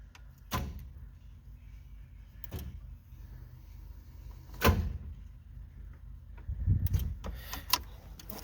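Door of a parts truck clunking shut, a few dull thuds spread over several seconds, fairly close, against a quiet idle-like background with no talk.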